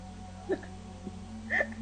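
Two quick, faint hiccups about a second apart, set over a steady electronic hum.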